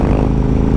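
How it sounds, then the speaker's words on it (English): A 2012 KTM 990 SMT motorcycle exhaust rumbles loud and close in a brief, steady throbbing burst with a dense low-pitched pulse and no voices. "that exhaust I could listen to all day."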